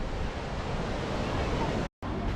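Beach waves wash continuously near Enoshima, a steady broadband surf roar mixed with wind buffeting the microphone, with a brief dropout near the end.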